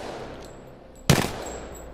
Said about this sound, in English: And the RE45. It's an auto pistol.